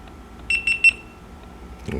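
A GoPro Hero 11 Black camera beeps three times in quick succession as it powers on, short bright electronic tones close by in a quiet room, followed by a soft rustle.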